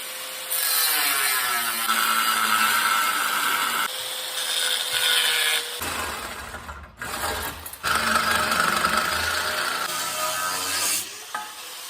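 Power tool cutting into the steel frame of a 1978 GMC/Chevy squarebody truck while shortening and C-notching it, a loud continuous grinding whine with a brief pause midway, close up and with no talking.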